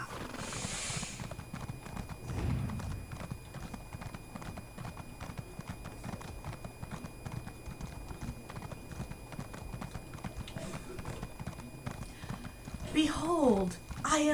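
A horse trots steadily in Elder Scrolls Online, a continuous quiet rhythm of hoofbeats running throughout, with a brief louder effect near the end.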